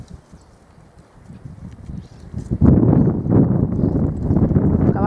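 A dun roan Quarter Horse walks on hard ground, its hooves clip-clopping in a quiet, irregular rhythm that grows louder and closer after a few seconds.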